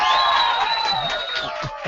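A short burst of canned crowd cheering and whooping plays as a radio show effect, loud at first and then easing off over about two seconds.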